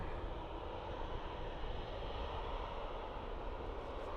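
Embraer E190 LR jet taking off from Dublin Airport for Lisbon, a broad, steady engine roar held at moderate distance without a break and no voices.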